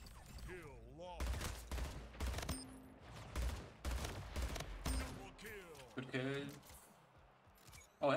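Shotgun blasts and other gunfire in the arena shooter Splitgate, several sharp bursts spaced across a ranked match, with a player's voice talking between and over the shots.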